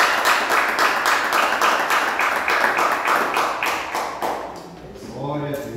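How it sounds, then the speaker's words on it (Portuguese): A church congregation claps together in a dense, steady round of applause that fades after about four seconds, and a voice then begins speaking. "Dê uma salva de palmas ao Senhor Jesus"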